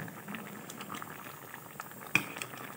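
A pot of banana flower, taro and tomato boils steadily, with a soft continuous bubbling patter and one brief sharp knock partway through.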